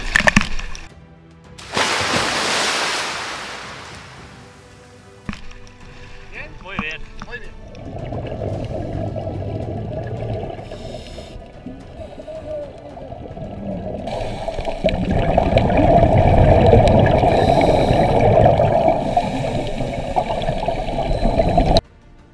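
Divers entering the Mediterranean sea at Alcossebre, a loud splash of water followed by sloshing and bubbling underwater rumble, with voices heard near the start.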